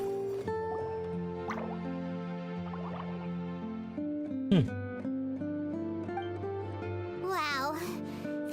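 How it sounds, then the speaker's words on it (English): A water droplet dripping in Genshin Impact, a wet plopping drip heard among steady layered game music and chimes, with a brief sliding swoosh partway through and a warbling flourish near the end. "it sounds like a water droplet is on the second floor"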